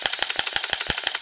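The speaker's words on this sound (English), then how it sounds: "Now, I can hold down this trigger and it will keep firing." A toy P30 gun fires on fully automatic, a rapid, evenly spaced string of about a dozen sharp snapping shots in just over a second, close and clear with no talk.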